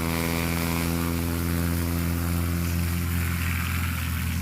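A Piper Cherokee light aircraft takes off with a loud, steady propeller engine drone that holds throughout, near and continuous with no voices.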